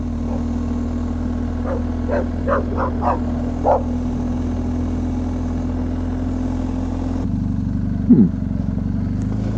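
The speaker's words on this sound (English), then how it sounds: "Oh, a dog." A dog barks several times in a quick series on a rural Ohio dirt road, fairly faint and distant, over the steady hum of a vehicle engine.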